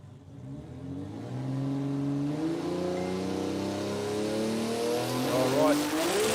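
A radial drag racing car launches at Willowbank Raceway in Australia, its engine rising in pitch as the tyres spin and the car accelerates down the strip, loud and sustained, with a commentator talking over it.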